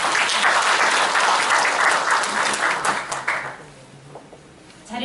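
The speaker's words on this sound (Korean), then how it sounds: "다시 한번 큰 박수 부탁드리겠습니다" Audience at a Gumi citizens' forum on making a happier city claps in loud, dense applause that holds for about three seconds, then thins out and fades into quiet room tone before rising again at the end.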